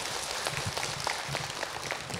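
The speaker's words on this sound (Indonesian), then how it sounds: "Tepuk tangan untuk bunda yang sudah bertanya." An audience at an Islamic lecture claps for a woman who asked a question, steady dense applause at moderate level throughout.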